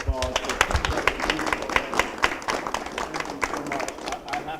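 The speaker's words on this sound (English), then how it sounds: "Can we give everyone a round of applause?" Audience applause at a retirement celebration for a chief judge: a dense run of hand claps from a crowd, steady and sustained throughout, with voices murmuring underneath.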